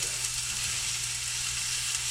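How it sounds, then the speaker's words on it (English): Burgers frying in a pan on a home stove, a steady close sizzling hiss with no break, even and moderately loud throughout. "And we flip the burgers."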